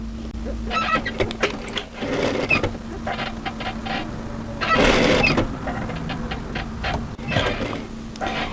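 A sewing machine stitches the hem of a winter tee dress in short runs and one louder sustained burst, close up, over a constant low hum and light mechanical clatter.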